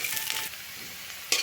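Chopped onion and four green chillies frying in hot oil in a home kitchen, a soft steady sizzle with light stirring and a brief louder scrape of the pan near the end.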